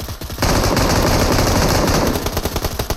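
Gunfire in a video game: a sustained, rapid machine-gun burst, loud and close, that fills nearly the whole stretch after a brief quieter opening and then eases slightly toward the end.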